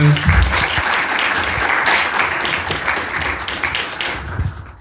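Lecture audience applauding in a loud, steady wash of clapping that tapers slightly toward the end.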